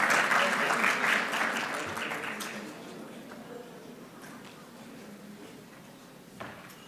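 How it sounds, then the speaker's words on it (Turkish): Audience applause at a conference opening event rises loudly at first, then gradually thins and fades over several seconds into scattered claps and room noise. "Yine yüksek alkışlarınızı rica ediyorum Mr."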